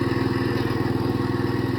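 A small IH Cub Cadet 149 garden tractor engine runs steadily close by, a loud, even rhythmic chugging with no speech over it.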